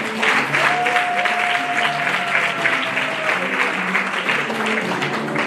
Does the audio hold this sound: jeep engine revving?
no